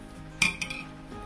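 A metal utensil scrapes stuck bits off the bottom of a pot of seafood broth for fideuà, giving one brief close clattering scrape followed by a few softer scratches and then quiet.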